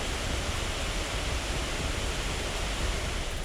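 Gaming laptop cooling fans, on a 2024 Lenovo Legion 7i with an RTX 4070 and a 14th-gen processor, run loud under heavy load as a steady, broadband whooshing roar, constant and close with no other sounds.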